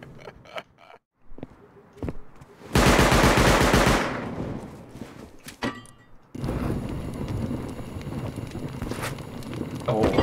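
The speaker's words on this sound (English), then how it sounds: "they got an auto turret right outside their base" Rapid bursts of automatic fire from an auto turret in the survival game Rust, loud and close, separated by creaks, mechanical clatter and footsteps.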